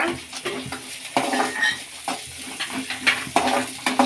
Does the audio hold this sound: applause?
no